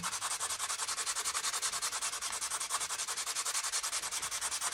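Sandpaper rubbed back and forth over a painted surface in quick, steady strokes, a continuous close-up rasping scratch with an even rhythm and no voices.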